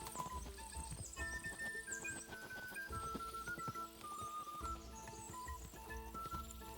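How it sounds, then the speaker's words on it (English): Hooves clip-clop rhythmically as a horse gallops in the medieval video game Kingdom Come: Deliverance 2, with a whinny and quiet game sounds underneath, all faint. "This is not a very quick horse."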